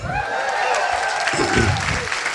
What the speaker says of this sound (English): the clap out and the applause is for her